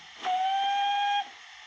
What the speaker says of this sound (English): We've got the short whistle, long whistle,